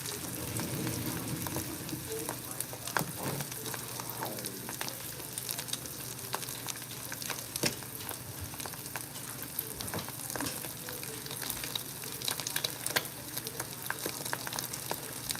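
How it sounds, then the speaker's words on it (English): Fried eggs sizzle in a hot pan, a loud continuous crackle and spatter with occasional sharp ticks and scrapes, heard close and steady throughout. "we're gonna have some fried eggs"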